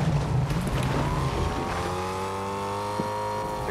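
A car in Fortnite revs and accelerates, the engine pitch rising steadily in a smooth climb after a brief rumbling start, close and fairly loud with no talking.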